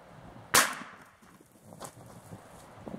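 A single sharp report from a .410 Rossi single-shot firing a slug, one loud crack near the start that decays quickly, followed by quiet outdoor background.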